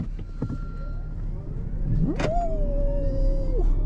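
A Toyota Revo BEV concept electric pickup truck accelerates, its faint electronic motor whine rising and then holding a steady tone over road and cabin noise.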